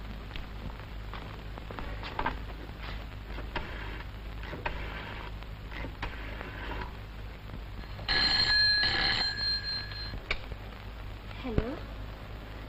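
A telephone in a scene from a 1964 Hindi film rings in a single bright burst lasting about a second, set against a steady background of voices and room noise.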